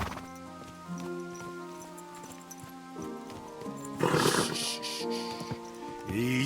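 Horse in a medieval open-world role-playing game, with a sustained tonal whinny and snorting over a layered ambient music bed, rising to a louder breathy burst midway and a short throaty snort near the end.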